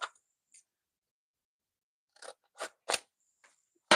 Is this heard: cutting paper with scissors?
yes